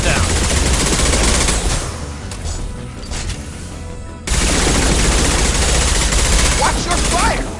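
Sustained, dense gunfire and explosive bursts in the video game Mass Effect 2, loud and continuous with a brief dip before the heavy firing resumes, a voice partly heard beneath the combat noise.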